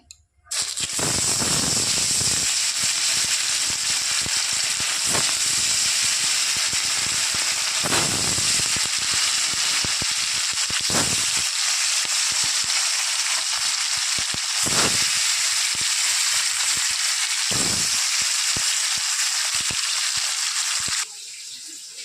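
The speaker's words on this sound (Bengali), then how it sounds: "তেল গরম হয়ে গেছে, এক এক করে মাছগুলো ভেজে নেব।" Rohu fish pieces fry in hot white oil with a loud, continuous crackling sizzle and sharp spitting pops throughout, then the noise drops off abruptly near the end.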